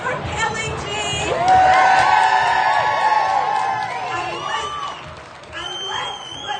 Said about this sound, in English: I think I should start by asking you to give a cheer for Kellie-Jay Keen